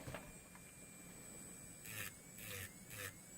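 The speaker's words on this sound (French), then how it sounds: "Vous voyez comment que ça fait des trous quand je lime?" A nail file rasps across gel nails in three short, quiet strokes late in the moment, after a stretch of near silence, with no talking.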